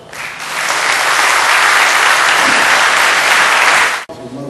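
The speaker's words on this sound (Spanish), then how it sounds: "Un aplauso." An audience at an education conference applauds after a presentation, clapping rising quickly into a loud, dense, sustained round that cuts off abruptly near the end, followed by faint room noise.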